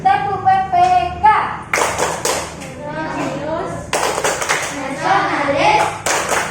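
An Indonesian primary classroom does a tepuk PPK rhythmic clapping chant, with sharp group claps in bursts alternating with children chanting along, close and lively in a busy room.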